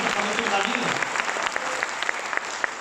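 An audience at a business meeting in Sujangarh applauds, a dense, steady burst of many hands clapping at fairly close range that carries on without letup, with voices heard under it.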